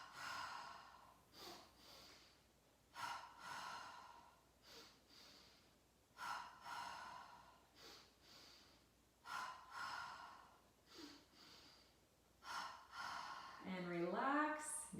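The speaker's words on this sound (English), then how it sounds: "take a deep breath in, nice and easy through the nose. Let it out your mouth." Slow, deep yoga breaths drawn in through the nose and released through the mouth during a hatha session, several close, soft cycles in a steady rhythm, with a brief vocal sound at the end.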